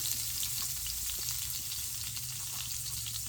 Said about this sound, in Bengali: কুচানো পেঁয়াজ গরম তেলের ভিতর দিয়ে দিলাম